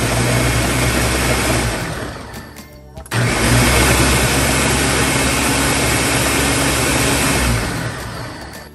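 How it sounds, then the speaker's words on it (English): Loud whirring blender blending tomatoes close up, briefly slowing and dipping before roaring back at full speed, then winding down at the end. "so now I'm going to blend them"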